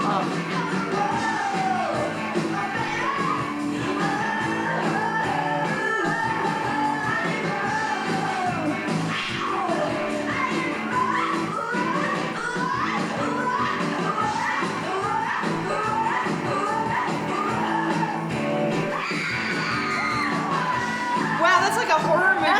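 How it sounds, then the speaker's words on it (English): Screams from a record play over dense, loud music, with shouted and whooping vocal cries rising above the full band mix throughout. "Wow, that's like a horror movie scream."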